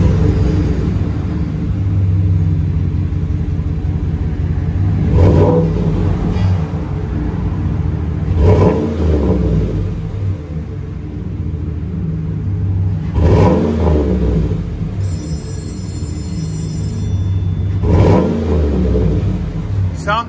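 A 2015 GMC Sierra Denali with a 6.2L LS V8 and Flowmaster Super 44 dual exhaust revs up in four separate bursts, each deep roar rising and falling back to a rumbling idle, loud and close.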